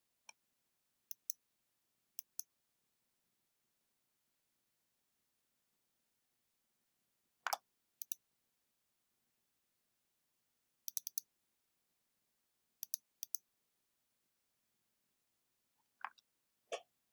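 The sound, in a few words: computer mouse clicking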